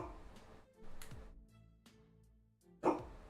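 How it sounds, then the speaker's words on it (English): A small dog barks in a room a few times in scattered, sharp bursts, the loudest one near the end, with quiet stretches between the barks. "Disobedient little dog."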